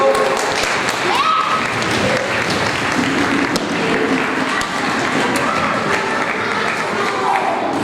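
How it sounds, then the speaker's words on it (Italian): School pupils and audience give a sustained round of applause at a regional school competition, dense clapping with scattered thumps and crowd murmur throughout, loud and close with faint voices beneath. "Ancora un applauso."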